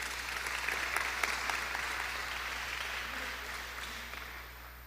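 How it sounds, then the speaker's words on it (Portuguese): A church congregation claps together in sustained, dense applause that stays fairly even for several seconds before gradually thinning and fading toward the end. "Dá um aplauso ao Senhor aí,"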